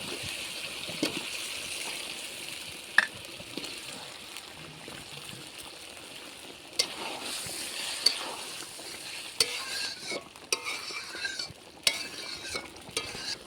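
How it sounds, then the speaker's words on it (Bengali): Spices fry with chopped tomato and potato in a pan, giving a steady, close sizzle broken by intermittent scrapes and clinks of a stirring utensil throughout, with no voices. "একসঙ্গে মশলাও কষানো যাবে, আর আলুও কষানো হয়ে যাবে,"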